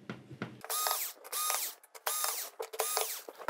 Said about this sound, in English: Now we just got four screws and we should be just about finished here.